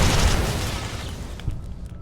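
Grenade blasts in Fallout: New Vegas, a loud low boom at the start that rumbles and decays, with a smaller second burst around the middle, no voices over it.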